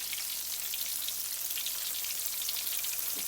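Potato pakoras dipped in thin besan batter frying in a large kadhai of oil, a steady, dense crackling sizzle with fine bubbling pops, moderately close and continuous with no talk.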